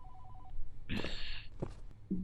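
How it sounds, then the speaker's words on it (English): Telephone ringing in a dark room in the 1980-set video game Case Of 1980, a short bright ring burst amid faint tones and soft clicks, moderately distant. "there is a phone ringing somewhere"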